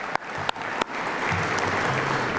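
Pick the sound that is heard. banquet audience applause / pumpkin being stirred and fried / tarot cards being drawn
banquet audience applause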